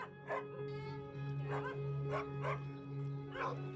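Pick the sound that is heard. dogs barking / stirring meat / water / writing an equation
dogs barking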